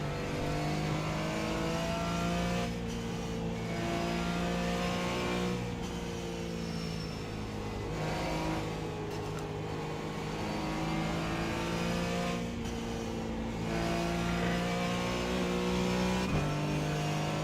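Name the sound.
race car engines in iRacing video game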